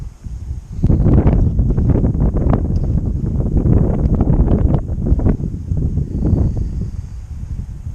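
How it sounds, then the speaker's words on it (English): A strong gust of wind at a lake buffets the microphone with loud, rumbling roar that swells suddenly and keeps blowing for several seconds. "now we get a big gust of wind as we get here."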